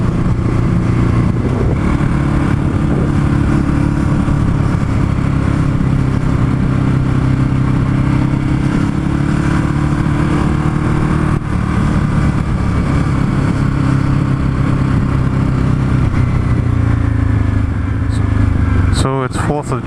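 Ducati Hypermotard motorcycle engine running steadily while riding through urban streets near Concord, California, a continuous loud mid-pitched drone with wind noise throughout and a voice talking over it.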